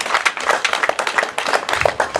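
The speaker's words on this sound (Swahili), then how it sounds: "Wapigieni makofi vizuri tafadhali." An audience at a Tharaka Nithi HIV event claps steadily and loudly, a dense burst of many hands spread through the crowd, continuing without a break over the whole stretch.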